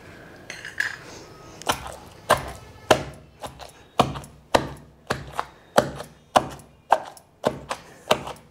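Garlic and cumin being crushed in a stone mortar for a brinjal and groundnut chutney, a steady run of about a dozen sharp pounding knocks evenly spaced, close and clear with no talk.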